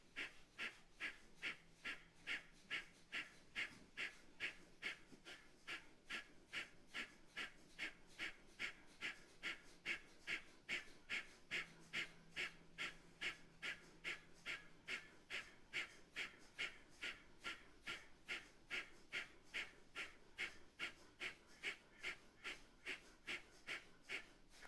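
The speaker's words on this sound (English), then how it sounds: "Begin breath of fire." Rapid breath of fire from a kundalini yoga practice, a fast, even train of sharp nasal exhales pumping in steady rhythm for the whole stretch, close and clear with no talking.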